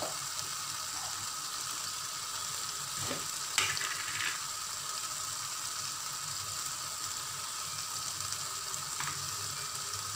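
Spice masala with coriander powder and tomato puree fries in a pan with a constant close sizzle, interrupted by a few brief scraping stirs of a spoon, with no talking.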